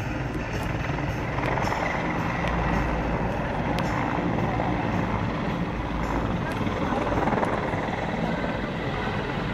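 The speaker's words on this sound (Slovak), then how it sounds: "Vrtuľník Mi-24 je poháňaný dvojicou turbohriadelových motorov TV3 117V, ktoré každý dáva po 2226 konských síl." A Mil Mi-24 helicopter with twin TV3-117V turboshaft engines runs continuously, a dense, steady rotor and turbine rumble with a whining high edge, loud and close for the whole stretch.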